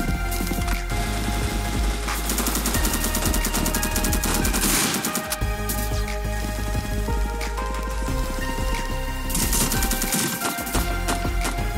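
Rapid gunfire from assorted weapons in a randomizer shooter video game rattles continuously and loudly, dense automatic bursts with brief gaps between volleys.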